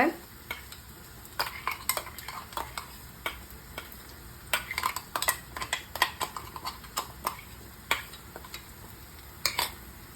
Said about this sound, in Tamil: நம்ம அரைச்சி வச்சிருந்த மிளகாய் பேஸ்ட்டை இதுக்குள்ளே சேர்த்துக்கோங்க